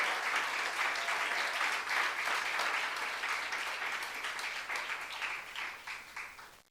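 A church youth-service congregation breaks into sustained applause during a sermon, dense crowd clapping that holds steady for several seconds before gradually thinning out, with no voices over it.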